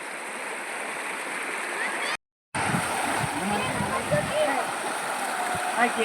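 Water of the Jambali river flows and splashes near a Gujarat village in a constant rushing wash, close and moderately loud, briefly cut to silence, with voices talking over it.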